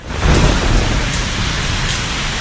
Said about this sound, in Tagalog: Pre, kusog kayo ulan, kayo.